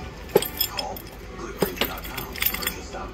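A bunch of keys jangles and clinks up close in a few short metallic bursts, picked up and handled near a cargo trailer being converted into an off-grid tiny house camper, with some speech in the background.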